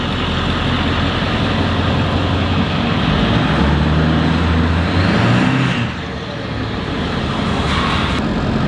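A car engine idles and rumbles steadily while the vehicle turns around slowly on gravel, with a low crunching roll beneath it and the engine easing near the end.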